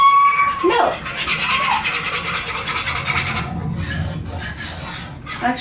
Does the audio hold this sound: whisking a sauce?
yes